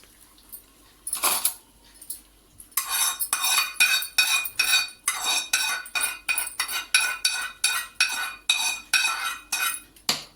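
A metal spoon mixes fried tempering into rice for ven pongal, making quick rhythmic clinks and scrapes against a steel vessel, close and fairly loud, with no one talking.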